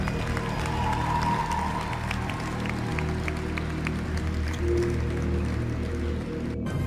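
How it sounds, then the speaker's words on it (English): A large crowd applauding Archbishop Charles Chaput: continuous, dense, rain-like clapping held at an even level for several seconds, with faint crowd murmur underneath and no clear speech. "please give another huge round of applause to our great Archbishop, Archbishop Charles Chaput"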